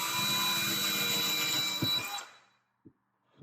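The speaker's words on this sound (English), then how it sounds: "I'll just take the bracket off because that can get in the way, and I'll finish drilling." A power drill bores into a wooden wall stud for a shelf bracket, whirring steadily and loudly before spinning down to silence, followed by two faint knocks.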